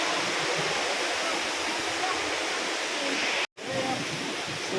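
Water rushing through the Wawa Dam waterway in Montalban, Rizal, a loud, steady broadband roar filling the whole clip, broken only by a momentary cutout near the end.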